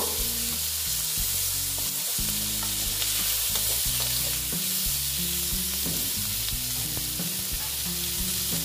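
Steady, loud sizzling of vegetables frying in hot oil, with the scrape and clatter of stirring throughout and no voices.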